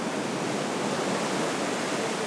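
Steady, loud roar of ocean surf on a vast beach at Crowdy Bay National Park, a continuous broadband wash of breaking waves with no voices.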